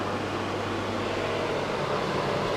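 A steady, even whir of a gas stove range hood fan running continuously, with broadband noise and a low hum, no voices.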